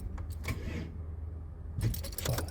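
A turbocharged Ford AU Falcon cranks but won't start, keys rattling at first, then the starter grinding over in short, uneven bursts close up, with a low steady hum underneath.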